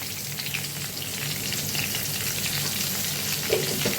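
Katla fish pieces fry in hot oil with turmeric and salt, giving a steady, dense sizzle throughout with faint stirring clatter near the end.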